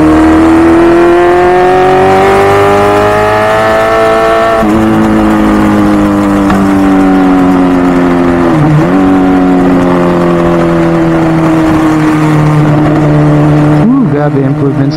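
A motorcycle engine running on Silkolene XP oil revs steadily during a test ride, its harmonic drone rising and falling through gear changes with a brief dip near the end, loud and continuous throughout.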